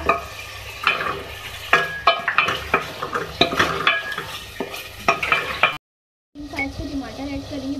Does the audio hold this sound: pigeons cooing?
no